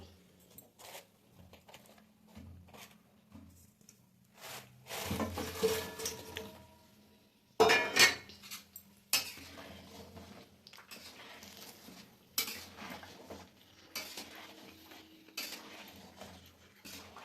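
Fried gokul pithas are placed into milk in a pan, with scattered metallic clinks of a utensil against the pan, soft squishing and brief splashes separated by quiet gaps.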